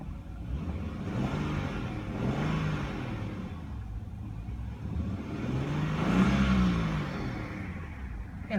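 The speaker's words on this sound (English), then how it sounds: "Fantastic sounding engine." The engine of a BMW 535i xDrive idles smoothly close by, with a steady low hum and two gentle revs that rise and fall before settling back.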